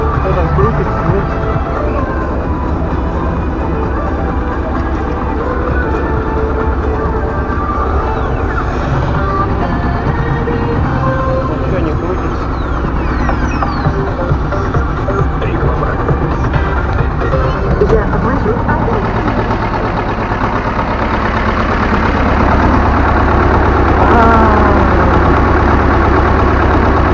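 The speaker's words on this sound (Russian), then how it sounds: "Включаем моторчик." Small engine of a homemade walk-behind tractor built from scrap metal, chugging steadily close by in a garden plot, growing louder near the end, with someone talking over it.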